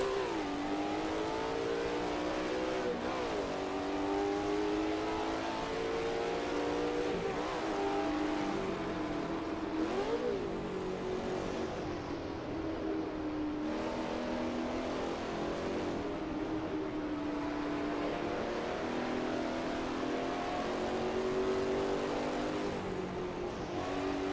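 Ford GT40 engine sound mod in Assetto Corsa, a steady droning V8-style roar with rising and falling revs through gear changes, loud and continuous for the whole stretch with no talking.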